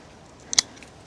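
A single quick snip of pruning shears cutting plant stems in an agroforest, a short crisp click close by against quiet outdoor background.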